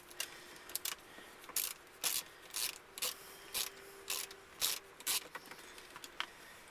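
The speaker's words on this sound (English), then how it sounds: "We're going to remove the second screw here." A ratchet turns out a Bose speaker mounting screw in a Chevrolet Corvette, clicking in about a dozen evenly spaced short bursts of rasping pawl clicks, close and fairly quiet.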